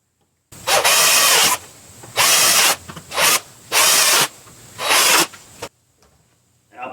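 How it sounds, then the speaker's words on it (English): A power drill boring holes through a plastic kayak fishing crate, five loud close bursts of whining, grinding drilling about a second each, separated by brief pauses, then quiet. "I'll drill me a couple holes on each side here"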